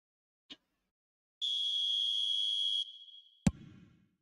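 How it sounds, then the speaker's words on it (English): A referee's whistle in an eFootball match, blown for offside: one sustained, steady high tone held for about a second and a half and then cut off, with a short click before it and a sharp knock after it. "And the whistle's gone, presumably for offside"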